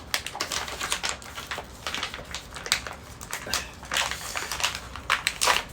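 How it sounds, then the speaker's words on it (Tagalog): Rustling, crinkling handling of a Hirono Mime blind box package being torn open, a dense run of close crackly plastic and cardboard scrapes with sharp bursts throughout and no talk. "buksan natin yung second box"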